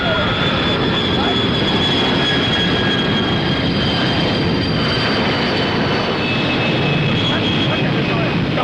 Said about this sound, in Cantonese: 你知唔知頭先飛機飛過嚟唔使補翻啲時間㗎？